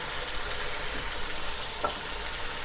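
Chicken korma masala frying in a pan makes a dense, steady sizzle, close and fairly loud, with a faint stir or scrape near the end and no talk.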